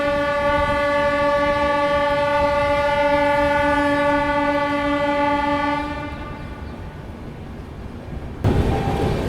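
A WAP 7 electric locomotive hauling the Kanpur Shatabdi sounds its horn in one long, loud, sustained blast over rumbling train noise, then the horn cuts off and the rolling rumble carries on.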